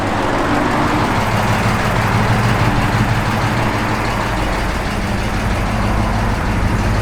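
A 1969 Dodge Charger SE idles steadily, a loud, close, deep low rumble with an even, unbroken drone and no voices.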